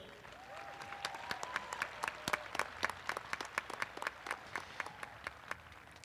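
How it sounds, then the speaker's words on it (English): A commencement audience at Hartnell College's 2022 ceremony applauds its graduating students: many crisp claps from a large crowd, steady throughout and somewhat distant, with no talking. "Let's hear it for our students."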